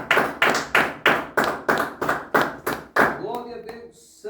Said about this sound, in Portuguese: Pode bater mais palmas para Jesus.